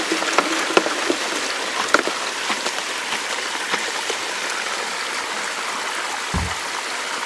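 Water pours and splashes in a bucket, rinsing clay off chunks of gold-bearing quartz from a rich vein, a steady close trickling wash with scattered knocks and one low thump near the end.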